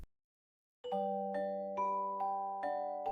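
A notification bell sound effect rings out in a quick series of bright, tonal dings with sustained overtones, about six strikes repeating steadily after a short silence, clear and alone.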